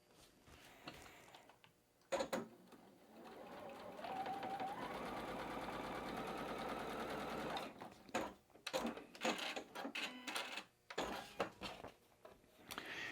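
A sewing machine stitches squares of quilting fabric, including shiny Fairy Frost, together with the presser foot down. It makes a quiet, steady run of about three seconds, with handling clicks and fabric shuffling before and after.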